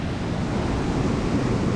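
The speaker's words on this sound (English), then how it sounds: "And the ocean right here." Ocean surf rolling onto the shore at Toco, a steady, full wash of broadband noise with some wind rumble, continuous and fairly loud throughout with no talking.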